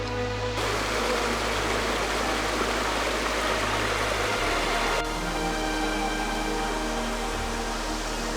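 Steady, loud rushing water pours continuously at Ribbon Falls in the Grand Canyon, a dense broadband roar close by, unbroken throughout.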